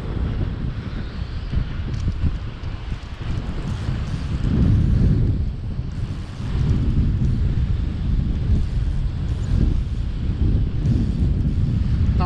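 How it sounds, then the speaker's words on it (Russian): Strong wind on an autumn carp fishing outing roars and buffets the microphone continuously, a loud low rumble that surges and eases throughout with no voices. "Ветер сильный"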